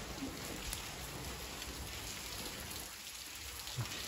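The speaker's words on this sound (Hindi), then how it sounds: "अच्छी खासी बारिश हो रही है यहाँ पर।" Heavy rain falling at night, a dense, continuous hiss of drops on surfaces, steady and moderately loud with no talking.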